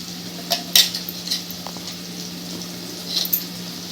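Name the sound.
frying and stirring masala paste in a pan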